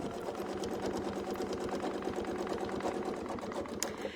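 A sewing machine stitches continuously, a rapid, even mechanical chatter of needle strokes, close and steady with no talking.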